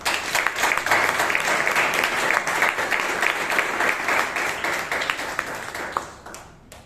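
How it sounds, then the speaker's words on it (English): Sustained applause from a Toastmasters meeting audience, dense clapping that holds steady for several seconds before tapering off at the end. "let us give the speaker and the evaluator a round of applause"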